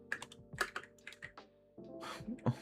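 Fingers clatter on a computer keyboard in quick, uneven bursts of clicky keystrokes, close and clear, pausing briefly before a denser flurry of typing.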